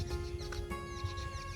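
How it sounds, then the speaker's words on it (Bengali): Several birds calling outdoors at a quiet countryside retreat near Susunia hill, with bright chirps and short whistled notes scattered over a steady background hum, one chicken-like cluck low in the mix. "কত পাখি ডাকছে পাখির আওয়াজ শুনুন"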